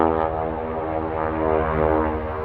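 A propeller-driven light airplane comes in to land at Columbia, California, its engine droning steadily and loudly at a distance without a break.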